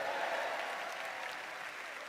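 A comedy stage show audience applauds in a steady, dense wash of clapping that holds at a constant level for a couple of seconds, with no voices over it.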